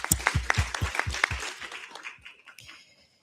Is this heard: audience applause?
yes